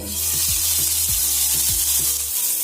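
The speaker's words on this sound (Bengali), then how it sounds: "এখন আমি চিংড়ি মাছগুলোকে ভেজে নেব" Prawns frying in hot mustard oil in a pan, a steady loud sizzle with a few soft low knocks of the pan or spoon spaced through it, no voices.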